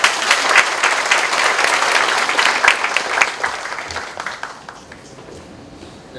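Applause from the audience at a university all-staff meeting, greeting the university president before his congratulatory address: a dense, fairly loud burst of many hands clapping that thins and fades over the last couple of seconds.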